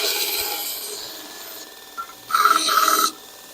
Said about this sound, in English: How to use a tool swing with a belt grinder on it.